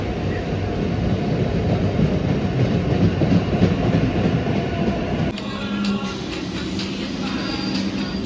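A Kolkata metro train rolls past near a station, its loud rumbling clatter filling the first five seconds before easing into a quieter, steadier hum with faint metallic squeals.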